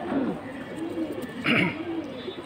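Pigeons at a pigeon sale cooing softly and repeatedly close by, with low murmuring background noise and no clear talk.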